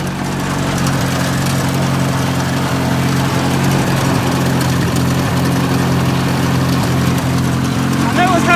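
Toyota Wolverine engine running with a slight skip, a loud steady idling drone with low rumbling tones and faint irregular stumbles, continuing unbroken throughout.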